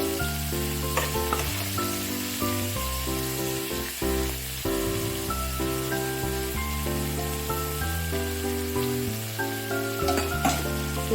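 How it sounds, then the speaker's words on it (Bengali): Cashew paste sizzles loudly in a frying pan, a close and continuous crackle broken by the scrape of stirring, with no voices. "এবার এতে কাজু বাদাম বাটা দিয়ে দিব"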